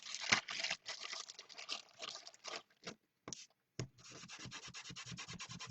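A card is rubbed with an embossing buddy pad in quick, close, dry scrubbing strokes, coming in bursts with short pauses and then a steadier run of rubbing, fairly quiet and without any voice.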